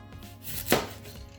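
A single sharp knife chop through an onion cuts through a quiet kitchen background, one crisp thud near the middle with faint scraping around it.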